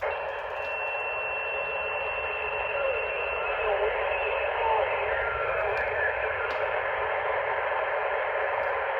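Two-way radio traffic breaking up as another station keys up over it, a steady hiss of static and garbled band-limited noise with a few sharp clicks, continuous and fairly loud.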